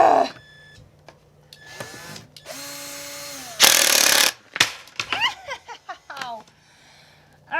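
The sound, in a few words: cordless power drill running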